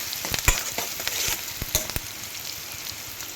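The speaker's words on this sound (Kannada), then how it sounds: "ಸ್ವಲ್ಪ ಟೈಮ್ ಆಯಿಲಲ್ಲೇ ಈರುಳ್ಳಿ ಚೆನ್ನಾಗಿ ಫ್ರೈ ಆಗಲಿ" Chopped onions fry in oil for a Kannada-style ridge gourd bassaru, a steady close sizzle broken by a few sharp clatters of stirring, with no voices.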